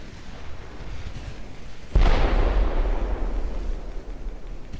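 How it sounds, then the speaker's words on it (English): A 9-inch naval gun shell striking a ship in the naval battle game Ultimate Admiral Dreadnoughts lands as a single sudden heavy boom, followed by a long, deep rumbling roll that slowly fades. "we keep getting hit by 9-inch guns"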